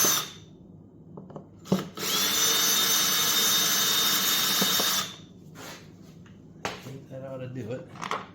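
A power drill backs long bolts out of a Harbor Freight Predator 9500W inverter generator, model 57080, one loud steady whir of about three seconds, bracketed by clicks and clanks of the bolts and tool being handled nearby.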